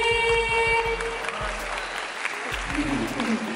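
An audience at a stand-up comedy show at Telkom University breaks into applause, a steady wash of clapping that starts under tonal sound and a voice, then continues as the main sound.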